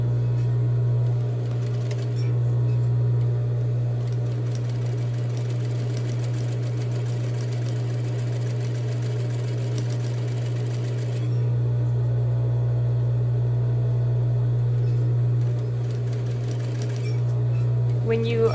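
Sewing machine stitching the side seams of a tote bag, a steady close mechanical hum with a fast rhythmic needle clatter running continuously throughout, with faint talk in the background.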